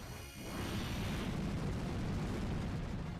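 Explosion in the video game Pokémon Omega Ruby: a deep, rumbling boom swells in after a brief lull and holds as a long, low roar, fairly quiet overall, with no talk over it.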